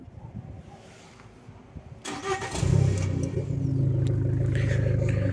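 An Abarth car engine cranks and catches, then settles into a loud, deep, rumbling idle from an open straight-pipe exhaust, close by.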